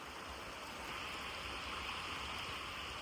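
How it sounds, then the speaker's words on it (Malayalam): Steady, even rain falls throughout at a campsite in Algonquin, Canada, a dense hiss of drops on surfaces with no pauses and no voices. "നല്ല മഴയുള്ള ദിവസാ"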